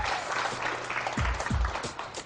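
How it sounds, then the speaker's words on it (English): Models and crew applaud after their first photo shoot, a dense, steady wash of many hands clapping at close range, with a couple of low thumps midway and little talk. "give each other a round of applause"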